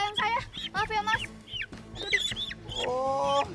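Chickens clucking and squawking in quick bursts close by, mixed with voices.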